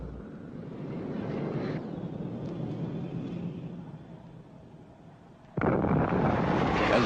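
Explosions from a U.S. Air Force Phantom jet air strike on a target area during a military exercise: a sustained, wind-buffeted rumble that eases off, then a sudden louder blast of noise near the end, with no speech.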